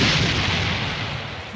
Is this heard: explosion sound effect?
yes